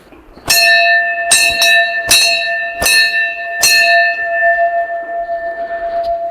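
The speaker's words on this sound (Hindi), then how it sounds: "तो ये घंटियाँ हैं यहाँ पे।" Temple bells at the entrance of the Bhandareshwar Mahadev Hindu temple ring in five sharp metallic strikes over about four seconds, each leaving a long sustained shimmering tone that lingers and slowly fades, loud and close with no talking.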